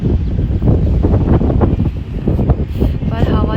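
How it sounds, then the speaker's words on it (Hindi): Strong wind gusts across a rooftop terrace in Haridwar, buffeting the microphone with a continuous loud rumble, while a voice is faintly audible beneath it. "हवा चल रही है मस्त तरीके की"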